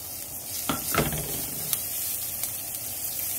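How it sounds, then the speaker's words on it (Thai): Garlic sizzling in hot frying oil in a home kitchen where fish was just fried, a steady crackling hiss with a couple of stirring scrapes, close and moderately loud, no talk. "ใส่กระเทียมลงไปเลยค่ะ"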